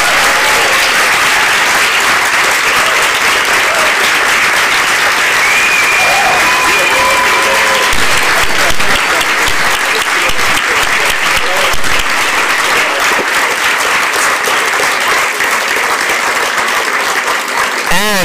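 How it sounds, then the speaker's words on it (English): Sustained audience applause for the panelists at a Harvard for Bernie conference event, a dense, steady wash of clapping throughout with some crowd voices mixed in. "round of applause for our panelists"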